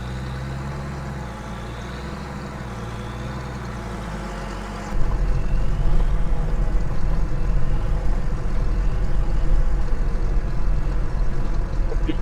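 A combine harvester in Farming Simulator 25 gameplay rumbles with a steady low engine drone, which swells suddenly into a louder, rougher roar partway through and holds there as the machine drives.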